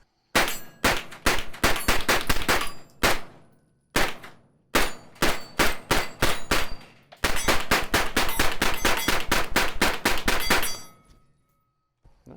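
Mac 5 rifle firing from H&K SP5 magazines outdoors, loud and close, with single shots and short strings first, then a rapid sustained run of shots that stops abruptly.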